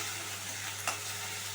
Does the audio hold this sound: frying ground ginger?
yes